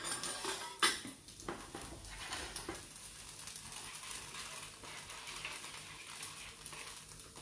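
Pans and utensils clatter and scrape over a high gas flame while a wok phad thai is cooked, with irregular metallic knocks and a hissing sizzle running throughout, loudest near the start.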